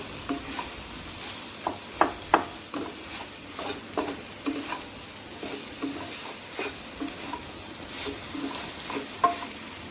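Ginger garlic paste frying in hot oil for a mealmaker, potato and brinjal masala curry, a steady sizzle broken by scrapes and taps of a stirring spoon against the pan, close and continuous with no talk.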